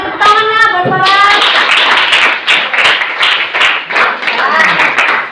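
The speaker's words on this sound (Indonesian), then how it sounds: "Tepuk tangannya buat Farah" A classroom of children claps for a student, brisk close-range clapping that starts under a teacher's voice and continues steadily with a few voices mixed in.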